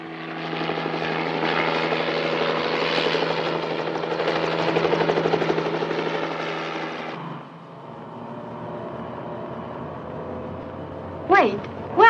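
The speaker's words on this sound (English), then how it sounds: "Everyone's got helicopters, even her." A helicopter in a 1967 film drones loudly and steadily for about seven seconds, then the roar drops away to a quieter hum, with two short sharp sounds at the very end.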